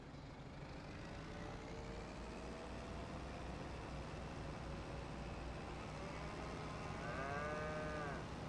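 Cattle moo in the farming video game Farming Simulator 25, faint drawn-out calls over a low steady engine-like rumble, with a clearer, louder moo near the end.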